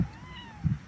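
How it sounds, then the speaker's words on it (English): Farm cats near a barn after a storm meowing, two short close meows spaced about half a second apart. "Meowing."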